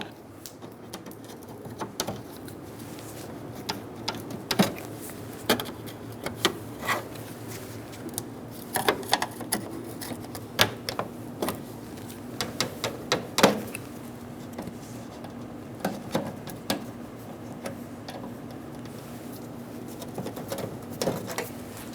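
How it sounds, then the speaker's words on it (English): Plastic grille clips being pried out of a 2011-2014 Hyundai Sonata front end with a small pick tool and a trim clip tool, with scattered close clicks, snaps and scrapes over a steady low hum. "Remove the 6 plastic clips for the grill. Using a little pick tool and a trim clip tool."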